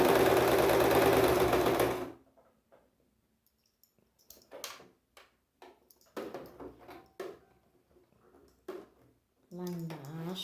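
A sewing machine stitches fabric in a beginner's exercise, whirring loudly for about two seconds before stopping. Then come quiet clicks and handling sounds as the presser foot is lifted and the piece is turned, with a person talking intermittently.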